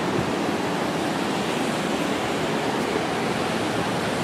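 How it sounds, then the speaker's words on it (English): Rough, storm-churned ocean surf rolls onto a beach at Sandestin, a steady loud roar of breaking waves with no voices. "The ocean is a little bit angry today. We had some storms come through yesterday, and the waves continue usually for about a day."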